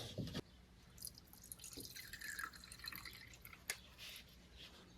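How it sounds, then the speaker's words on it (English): Fuel trickles and drips through a funnel into the tank of an MGB that sat for ten years, a faint liquid splashing and dripping close by, with a brief clunk at the start. "So basically now I have a funnel that I can dump fuel into."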